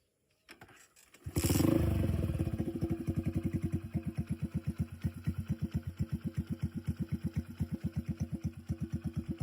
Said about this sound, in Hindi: इंजन की आवाज़ बिल्कुल साइलेंट है